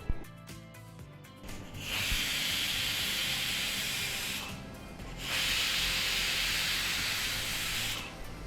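A pressure cooker of soya chunks pulao whistles in two long hissing blasts of steam, each several seconds, with a short pause between, loud and close in a kitchen.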